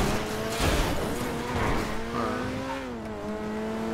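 A car in GTA drives hard with engine revs shifting up and down and tires squealing through the turns, loud and continuous.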